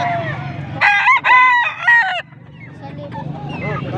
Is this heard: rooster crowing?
yes